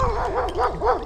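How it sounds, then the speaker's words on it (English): Dogs barking at a paddler passing on a river, three rising-and-falling barks in quick succession, fairly loud and close across the water. "some dogs not happy because I'm paddling past"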